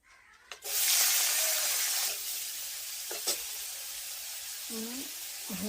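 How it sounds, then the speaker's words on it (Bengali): Prawns frying in a little oil in a pan: a loud hissing sizzle erupts as they go in, then settles into a steady crackle, with a few clinks and a short voice-like sound near the end. "আবার অল্প একটু তেল দিয়ে চিংড়ি মাছগুলো ভেজে নেব।"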